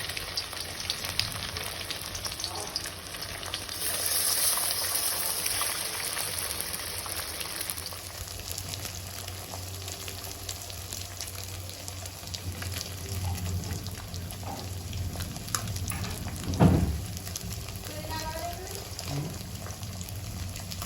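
Apollo fish pieces frying in oil make a steady, moderate sizzle that runs throughout, with a brief louder clatter near the middle and no talking.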